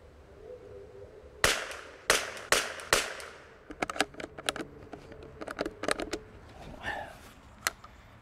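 A Springfield 2020 rimfire rifle fires four sharp, close cracks in fairly quick succession. A run of lighter metallic clicks and rattles from the action follows, with a round failing to extract.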